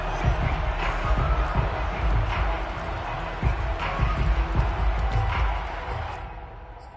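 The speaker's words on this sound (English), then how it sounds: "Plenty of shouts from this crowd as they watch the replay." Crowd noise from a Madden football video game, a steady wash of shouting and cheering running throughout at moderate level, swelling and easing slightly before fading near the end.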